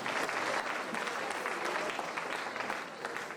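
A church congregation at a French-language worship gathering bursts into loud, sustained applause, dense clapping from a large crowd filling the space and starting to thin toward the end.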